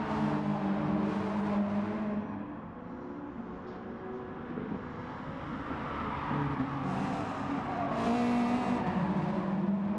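A race car engine in Gran Turismo Sport roars steadily at high revs, with occasional tire squeal and shifting pitch, loud and continuous throughout.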